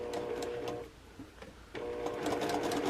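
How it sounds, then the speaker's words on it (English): A sewing machine stitches a quilt block with a quarter-inch seam. Its close, rapid mechanical whirring runs, pauses for about a second, then resumes and continues steadily. "I'm sewing a 1/4 inch away from that line on both sides"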